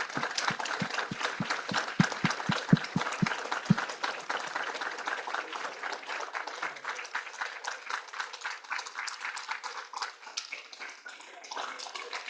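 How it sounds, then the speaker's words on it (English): An audience at a distinguished lecture event claps to welcome guests, beginning with sharp separate claps that swell into sustained dense applause, continuing steadily throughout. "Let's give a round of applause to welcome our guests."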